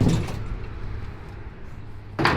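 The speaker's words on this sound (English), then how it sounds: "let's close the doors for now." Steel bulkhead doors closing on a welded angled bulkhead retrofit against existing siding: a loud clunk at the start, a low rumbling slide, then a sharp metallic bang as the doors shut at the end.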